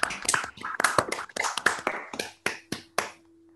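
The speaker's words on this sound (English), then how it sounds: "let's turn on the microphones and clap our hands" Sparse clapping of hands from a few participants with open microphones at the close of an online talk, scattered sharp claps tapering into a handful of isolated slaps over a low hum.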